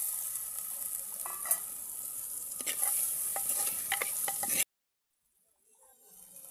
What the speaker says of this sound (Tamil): நல்லா கழுவி சுத்தம் செய்த நாட்டு நண்டை சேர்த்துக்கொள்வோம்.